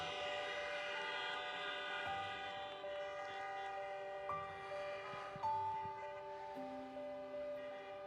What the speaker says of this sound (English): let's honk again